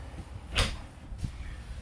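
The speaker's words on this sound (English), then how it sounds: "I'm going to call this a pocket door, even though it's a sliding door." A sliding pocket door to the restroom of a Northwood Nash 18FM RV rolls and thumps once sharply, followed by a softer knock about half a second later, close and quiet with no talk.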